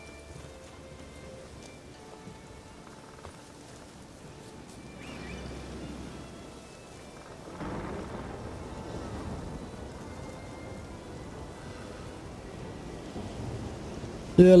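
Thunderstorm weather in The Witcher 3: a soft, steady hiss of rain with a low rumble of thunder that swells midway and grows louder, ending in a sudden sharp burst.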